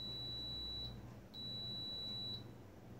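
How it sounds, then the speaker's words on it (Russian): A T-fal 45-in-1 multi-cooker (RK8121) gives its end-of-cooking signal after baking milk: two sustained high electronic beeps, each close to a second long, separated by a short gap over a quiet room hum. "Вот такой сигнал дает мультиварочка."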